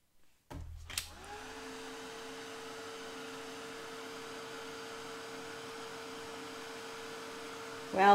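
A hair dryer switched on to dry paint on a craft project, a sudden click then a steady whirring blow with a constant hum, a brief bump at the end.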